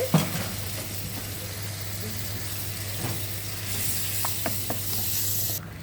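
Coconut milk poured into sizzling masala in a pan for fish mappas gives a hissing, bubbling fry with stirring scrapes and a few sharp crackles, ending in a brief burst of sizzle.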